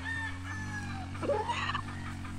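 Allen Blues chickens, a hen and a rooster, cluck and call close by, with short rising vocalizations over a low steady background hum.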